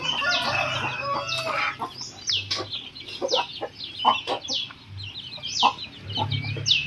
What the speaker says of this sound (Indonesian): Ada ayam jago.